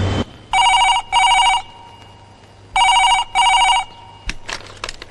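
A telephone rings in two double bursts, each pair of electronic trills separated by a pause, loud and close, followed by a few faint clicks.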